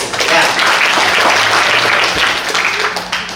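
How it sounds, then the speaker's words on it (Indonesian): A lecture hall full of new university students breaks into loud, dense applause that runs steadily throughout, with voices murmuring underneath. "Tepuk tangan dong."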